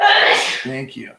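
A single sharp sneeze bursts out close and loud at the start, fading into a brief spoken reply, heard during a live online coin auction.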